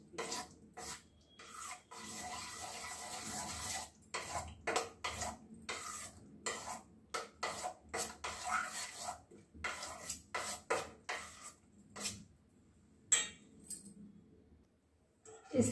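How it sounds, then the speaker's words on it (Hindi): Sabudana batter is worked with water in a bowl by a spoon, producing close, irregular bursts of scraping, rasping strokes and light clinks against the bowl, with short pauses between strokes and no talking. "इसमें पानी मिक्स करके इसका बैटर अच्छा तैयार कर लेंगे"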